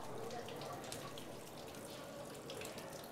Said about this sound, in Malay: Ini air sedang mengalir dengan laju